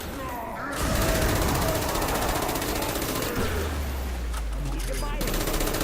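Rapid gunfire from a magazine being emptied into George in Call of the Dead, a Black Ops 1 Zombies game, comes as a continuous mechanical rattle of shots under game sounds, with a low rumble joining midway.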